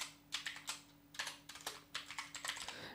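Quick bursts of keystrokes on a computer keyboard as a student's name is entered, clustered taps with short pauses between groups, close and fairly quiet.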